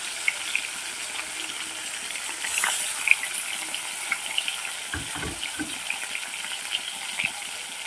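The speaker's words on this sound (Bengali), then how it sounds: "কড়াটা গরম হয়ে গেছে, মাছগুলোকে আমি ভেজে নেব।" A large catla fish fries in a hot pan, giving a steady, bright sizzling hiss with a few soft pops and light bumps, no talking.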